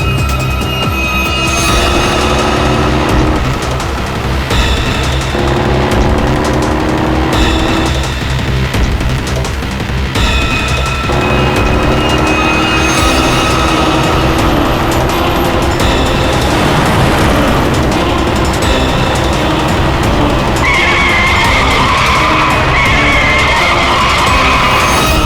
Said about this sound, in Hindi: ट्रक कहाँ से आ गया? ट्रक हटाओ!